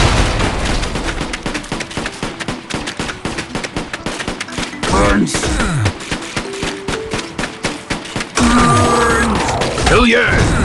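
Rapid bursts of submachine gun fire in a video game, dense and loud, broken by short pauses and game effects, with a voice talking over parts of it.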